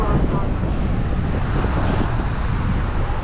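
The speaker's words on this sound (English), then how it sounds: "Maybe it's the wind." Strong wind blows outdoors at a seaside spot in St. Petersburg, Florida, a loud continuous rumbling roar buffeting the microphone for the whole stretch.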